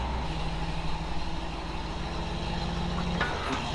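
An off-road tow truck engine running with the PTO engaged gives a steady, close diesel rumble with a constant hum and no breaks.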